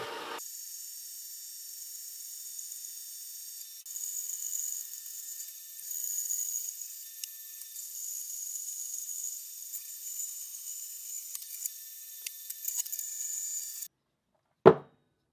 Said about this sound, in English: went to work cutting off the sprues and risers